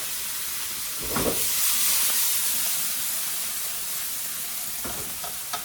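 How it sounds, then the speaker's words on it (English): Onion fries in a pan with white wine and salt, a continuous close sizzle and steamy hiss punctuated by a few stirring scrapes, loud and steady with no talking. "You don't need to cook that onion that much. I just want it to be soft and brown."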